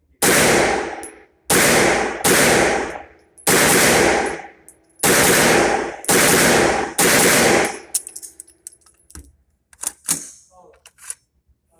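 Rapid bursts of 9mm gunfire from a Masterpiece Arms MAC pistol, about six loud, close strings of shots separated by short pauses, followed by scattered clinks and handling noises.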